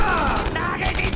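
Gunfire in the World War II shooter game Enemy Front, a dense burst of shots and booms crowding a short stretch, loud and close, with a player talking over it.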